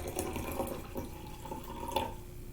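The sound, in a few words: pouring white distilled vinegar into jars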